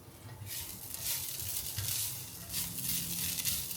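Shredded potato dry frying in a pan for copycat McDonald's hash browns gives a steady, close hissing sizzle that swells and eases in waves, with no talking.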